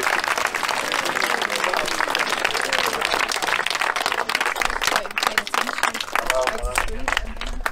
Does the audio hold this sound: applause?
yes